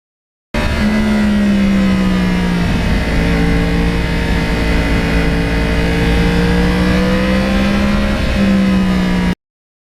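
A one-owner Yamaha R1 crossplane sport motorcycle with 32,000 miles roars loud and close while ridden, its uneven engine note holding steady, dipping as a gear shifts, then pulling again.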